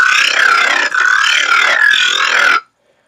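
Growl bass synth patch without overdrive, a loud, harsh, wobbling buzz in two sustained phrases with a brief dip between them, cutting off abruptly into silence.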